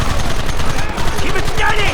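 Rapid bursts of gunfire in the Western game Red Dead Redemption, loud and close, mixed with shouting voices throughout the short stretch.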